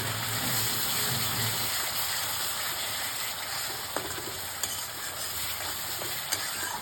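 Spice paste sizzling and frying in hot oil in a pan, stirred now and then while cooking a quick fish curry; a steady broad hiss with faint scraping clicks, no talking.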